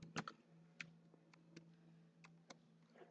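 Faint, sparse clicks of computer keyboard keys tapped at a command prompt, a handful of separate keystrokes over a low steady hum.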